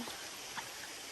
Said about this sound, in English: So that's the end of this waterfall,